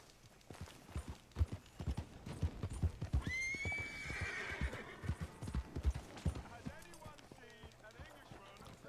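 In the video game Red Dead Redemption 2, hooves clop in a quick steady rhythm on hard ground while a horse lets out a shrill whinny partway through, with faint talk underneath.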